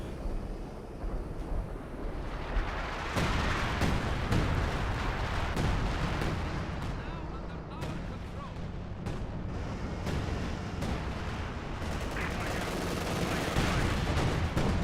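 A Scavenger Artillery Barrage in the World War II strategy game Company of Heroes 2 brings repeated distant thuds and crackling blasts over a constant battle rumble, with scattered sharp shots throughout.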